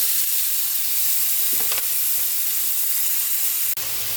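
Ground meat sautéing with onion and tomato in a pan for stir-fried bitter gourd gives a steady close hiss and sizzle, with a few brief clinks of stirring near the middle and one sharp tap near the end.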